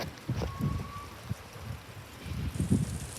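Rain falling during a thunderstorm in Garretson, South Dakota, a soft continuous patter with low rumbling pulses, fairly quiet and close.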